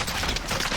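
Rapid bursts of gunfire in the video game Call of Duty: Warzone during the Iron Trials '84 event, a dense near fusillade of shots filling the short moment with no talk.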